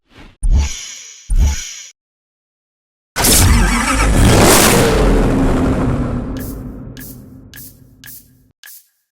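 A McLaren F1 with a specially built 6.1-liter BMW V12 in the Need for Speed Hot Pursuit video game gives two short blips, then a long loud roaring rev that slowly fades, followed by a few sharp pops.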